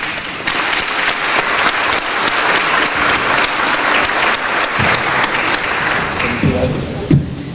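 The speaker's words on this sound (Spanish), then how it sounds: "Brindemos un fuerte aplauso a nuestros galardonados con la medalla Ignacio Chávez Sánchez." An audience at a medal award ceremony applauds, loud and sustained clapping that fills the space, thinning toward the end as a voice begins to speak.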